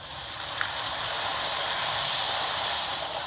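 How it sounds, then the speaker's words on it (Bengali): Water poured into a pan of vegetables spiced with salt, chili powder and cumin for a fasting-day sago pulao gives a steady, even hiss and sizzle that holds throughout with no voices. "এখানে হাফ বাটি মতো জল দিয়ে দেব।"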